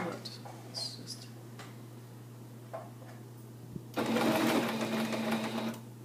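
A home sewing machine stitches a zigzag: after a few quiet ticks and clicks, the motor whirs into a loud, rapid run for about two seconds, then stops.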